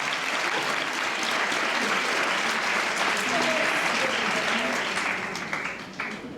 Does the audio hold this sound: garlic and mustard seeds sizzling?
no